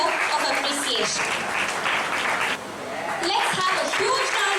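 Applause rises for an honoree at a Kuchipudi dance academy Yugadi celebration, steady broadband clapping filling most of the moment, briefly dipping before swelling again, with voices mixed in.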